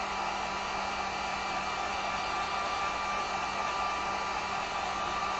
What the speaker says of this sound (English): Now remember to have it on low setting when you're doing your heat gun and work fast